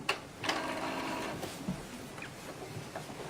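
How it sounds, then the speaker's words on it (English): An Epson inkjet printer's cartridge carriage shuttles along its rail with a whirring, clicking mechanical rattle, steady and close, with a few small knocks and ticks. "the cartridge carriage is going to move in the proper place"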